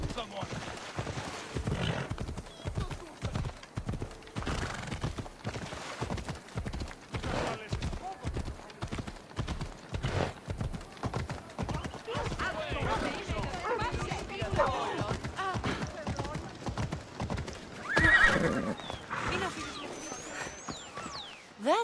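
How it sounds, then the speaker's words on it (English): Horse hooves clop in a steady, rapid rhythm on the ground in Assassin's Creed Odyssey, moderately close. A brief whinny rises near the end, and voices speak over the riding. "That's a nice horse, Socrates."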